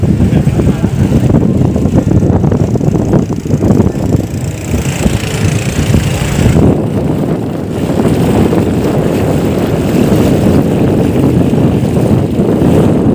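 A boat motors across Cirata reservoir in Cianjur, its engine a steady low rumble that runs the whole way through, mixed with constant wind buffeting the microphone.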